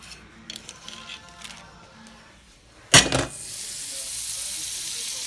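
Butter sizzles in a pan as a grilled cheese sandwich fries: faint scraping and tapping at first, a sharp burst of hiss as something hits the hot fat, then a loud, steady sizzle that carries on to the end.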